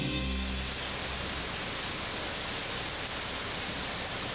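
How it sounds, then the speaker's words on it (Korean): A midsummer rain shower pours down in a steady, dense hiss of falling drops, loud and unbroken throughout, with no voices. "한여름의 소나기."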